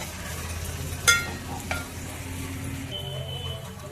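Ginger garlic paste fries in a pan with a steady, moderate sizzle. A sharp utensil clack lands near the start and a softer scrape follows, as if stirring.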